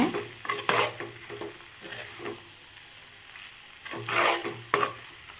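Okra sautéed with salt in a pan, a soft background sizzle broken by several scraping stirs of a spatula against the pan, close and moderately quiet.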